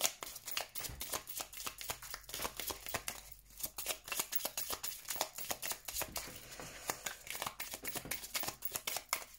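Tarot cards are shuffled by hand ahead of a reading, giving a quiet, close, rapid run of soft riffling flicks and slaps that goes on steadily with no talking.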